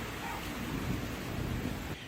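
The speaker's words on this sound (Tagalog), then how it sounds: "Pero maghapon pa rin maulan sa Baguio City." Steady heavy rain pouring during a storm in Baguio City, a dense continuous hiss with low rumble, fairly faint and unbroken.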